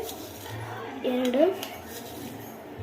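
Sugar being spooned into lemonade, a few close clinks of a spoon against a glass or dish, with a brief tonal sound partway through over quiet room noise.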